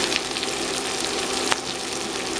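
Onions browning in a skillet hiss continuously as they are stirred, a dense close sizzle with a soft scrape or two and a brief louder clack about midway, no voices.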